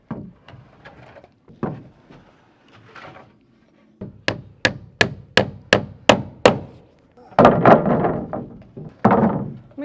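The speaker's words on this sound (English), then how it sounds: "just nailing this part of it, getting it in place and nailing that part of it" A hammer drives nails into wooden roof framing with seven crisp, evenly paced strikes, followed by heavier thuds of wood being shifted into place, all close by and preceded by quieter knocks and handling noises.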